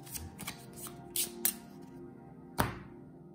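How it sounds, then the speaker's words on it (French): A deck of game cards for the This War Of Mine board game being shuffled by hand, with a few short riffling bursts and a sharp snap near the end, close and alone in a quiet room. "Je remélange"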